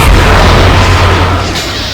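A grenade blast goes off inside a crowded cantina in KOTOR 2, a heavy, loud boom with a deep rumbling low end that fills the whole moment and slowly tapers off.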